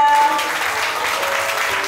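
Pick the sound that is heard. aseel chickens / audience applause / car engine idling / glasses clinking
audience applause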